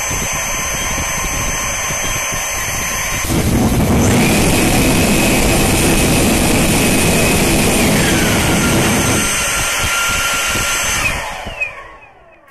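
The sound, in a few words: electric ducted fan afterburner flame, fan throttled to 40%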